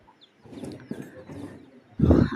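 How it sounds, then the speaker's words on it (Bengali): Chicken chicks, bought in and recovering from illness, make soft, close clucking and peeping sounds in a few short bursts. A louder muffled rustle comes at the end. "আর এগুলো আমাদের সেই মুরগির বাচ্চাগুলো"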